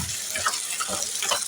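Cup of water poured into a cooking pot on the stove, a short, close splashing gush with bubbly, uneven pulses and a faint sizzle beneath.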